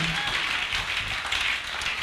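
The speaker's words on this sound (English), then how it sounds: "give daddy a better clap" A church congregation claps in a broad, continuous wash of hand claps filling the room, steady and fairly loud with no clear pauses throughout.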